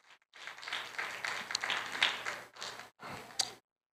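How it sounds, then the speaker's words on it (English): A church congregation at a live Bible study claps their hands in a quiet, fairly distant patter of applause that stops and restarts in short bursts before ending abruptly. "Come on, clap your hands."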